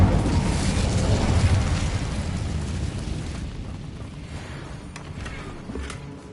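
A fire spell blast in Hogwarts Legacy: a loud rushing, roaring burst that rumbles on for a few seconds, then fades into a lower, steady background with a few faint clicks.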